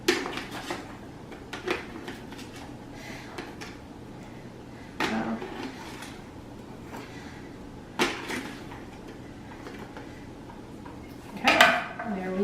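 A salt container is handled during cookie baking in a kitchen: a few scattered clunks and knocks against a quiet room background, with faint clatter of utensils and no clear talking.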